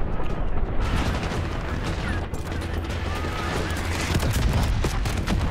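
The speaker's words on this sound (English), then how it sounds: "Okay, that's like a scheduled explosion." Dense, loud gunfire and blasts in Black Ops 6 combat, a steady roar of rapid shots and booms with no break.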